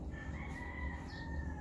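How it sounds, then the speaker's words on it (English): Distant chickens call in a brief outdoor moment among trees and mountains, with a faint crow and soft clucking over a low background rumble. "chickens,"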